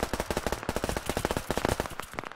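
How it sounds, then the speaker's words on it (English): Rapid automatic gunfire rattles in Operation Harsh Doorstep, a dense, loud burst of repeated shots that runs without a break, with a few overlapping weapons firing at close range. "Taking a lot of fire though."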